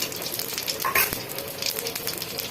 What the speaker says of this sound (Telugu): నూనె కాగింది ఫస్ట్ ఆవాలు వేస్తున్నాను ఇదో జీలకర్ర వేస్తున్నాను